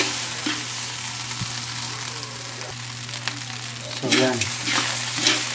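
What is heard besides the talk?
frying Kapampangan fried rice in a pan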